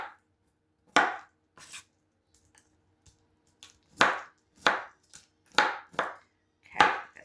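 A knife chops food on a cutting board while snacks are prepared for Christmas: about eight sharp, close thwacks in an uneven rhythm with short pauses between bursts, and no talking.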